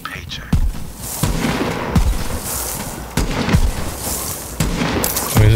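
Shotgun blasts in the Borderlands 3 video game, several sharp booming shots spaced about a second apart amid game effects, with a voice talking over the action.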